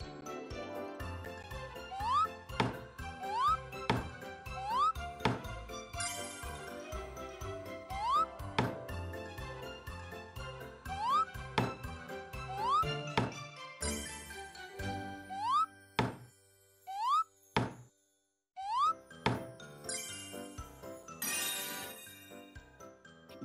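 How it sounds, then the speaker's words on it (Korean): Nails being hammered in the Pororo carpenter job-play game: a long run of sharp, evenly spaced taps mixed with tinkling game jingles and rising chime effects. "망치로 못을 박아주세요."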